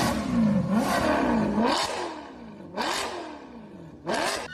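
Die-cast toy cars race down a track in several quick, loud passes, each a rising whir and clatter that rushes in and fades.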